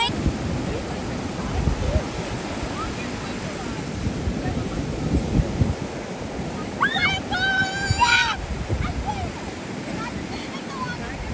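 Ocean waves at high tide wash onto the shore as a steady broad roar with gusty wind rumble, close and loud, while voices briefly chatter in the background.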